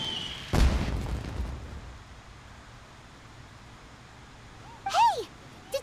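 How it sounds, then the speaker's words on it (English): Explosion in the Genshin Impact video game, a single sharp boom with a short rumbling tail, followed by quiet ambience and a brief high chirping game sound near the end. "Did you hear that explosion? Maybe it was fireworks."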